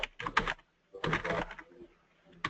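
Someone typing on a computer keyboard during an online webinar, two short bursts of quick clicking separated by a pause, faint and fairly distant.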